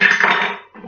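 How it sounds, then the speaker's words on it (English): A tiny kitchen food processor chops garlic with a loud, dense whirring clatter of blade and bits against the bowl, holding steady for most of a second, then dropping out briefly before a softer burst resumes. "I'm going to use a tiny little food processor to chop the garlic."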